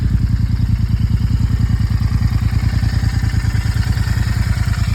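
A motorcycle idles close by with an even, rapid exhaust pulse that stays smooth and steady throughout, with no talking.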